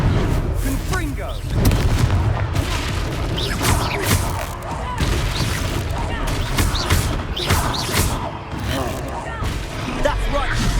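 Blasting Confringo spell explosions from Hogwarts Legacy go off in dense, repeated booms and crackles throughout a chaotic battle, mixed with shouting voices and combat noise.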